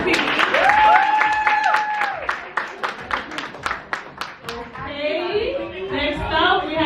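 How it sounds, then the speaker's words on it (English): A voice speaks over a crowd, then an audience breaks into loud clapping and cheering that fades back into voices and chatter, at a networking event. "Please give her a round of applause."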